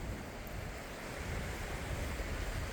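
Sea waves washing onto a sandy beach as the tide moves in and out, a broad continuous roar of surf mixed with wind buffeting the microphone, steady and fairly close with no voices.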